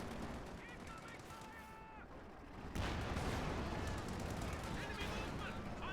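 Machine-gun bursts and gunfire from a Company of Heroes 2 battle, with a Sherman tank engaging a Raketenwerfer rocket launcher, crackling steadily throughout and getting louder and denser in the second half, while a commentator talks over it.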